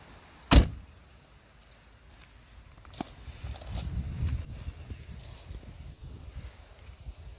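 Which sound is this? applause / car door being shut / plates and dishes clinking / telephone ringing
car door being shut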